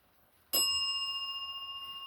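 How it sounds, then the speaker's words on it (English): A single bell rings at the start of a paranormal investigation in a Maine house, with one sharp strike followed by a long, clear ringing tone that decays slowly across the rest of the clip. "If yes, ring the bell."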